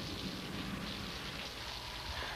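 Steady, dense rain hissing across surfaces, a continuous broadband wash with no pauses and no voices.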